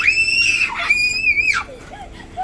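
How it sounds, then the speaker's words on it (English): A young child lets out two long, shrill, high-pitched screams close by, each about half a second, followed by a brief quieter whimper. "Why are you screaming?"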